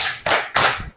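A classroom of children claps together in two quick bursts to praise a perfect quiz score, close and lively, with no talking over it.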